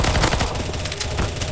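Rapid automatic gunfire blazes without pause in a CS:GO zombie escape match, dense and loud bursts of shots firing at zombies throughout.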